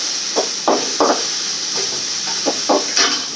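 Fenugreek leaves sautéing for a Tamil-style kara kuzhambu, with a steady soft sizzle broken by a series of short scraping and stirring knocks of a utensil against the pan.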